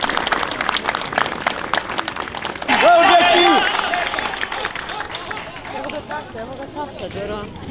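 Crowd at a motorsport race memorial event cheering and applauding competitors, a swell of clapping and voices rising briefly under a public-address announcer's continuous talk.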